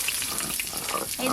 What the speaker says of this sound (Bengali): একটু সময় লাগবে মাছ ভাজতে।